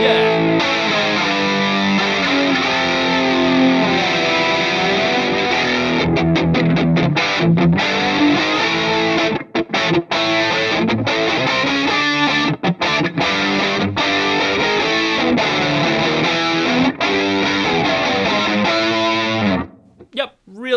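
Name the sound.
distorted electric guitar through Bias FX 2 Orange Farm preset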